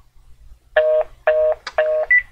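A telephone line sounds after a spam caller hangs up: three clear, evenly spaced electronic beeps followed by a shorter, higher tone, loud and isolated against near silence.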